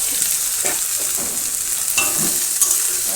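Ginger, garlic, onion, green chilli and ground chilli paste stir-fried in a village kitchen pan, a steady close sizzle broken by scraping stirs and soft clinks, with no voices.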